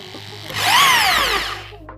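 A Dongcheng mini drill backs out a screw that had been driven fully in, giving one close, loud whining burst of about a second that rises and then falls in pitch before cutting off.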